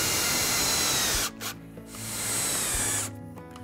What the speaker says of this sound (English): next I'll drill some pilot holes, put screws in